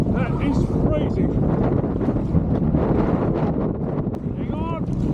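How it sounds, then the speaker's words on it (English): Strong wind gusting over the water at Wingan Inlet, a loud continuous roar buffeting the microphone throughout, with faint voice sounds briefly breaking through. "the wind's come up now"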